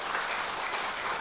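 Steady applause from a church congregation during a Sunday worship service, a dense, even wash of clapping at moderate volume with no voices over it.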